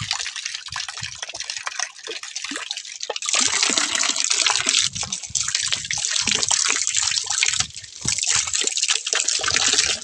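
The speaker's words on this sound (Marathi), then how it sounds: "पाणी पडायला लागलंय का बघतो. हे बोरचं पाणी आहे." Borewell water pouring out of a pipe, a loud steady rushing gush with spattering, close up, rising after a quieter start, with no talk.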